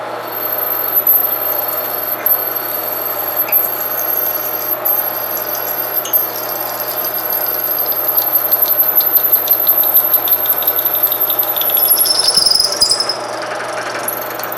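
A drill press bores a hole at 600 RPM for a compressed air manifold, a steady loud grinding drone with rattling and a high whine, changing pitch near the end as the bit breaks through.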